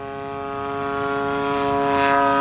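A Seagull Models Gilmore Red Lion RC airplane with a 74-inch wingspan and a Stinger 35cc gas engine drones through a roll, its steady buzzing propeller tone growing gradually louder and nearer, with no speech.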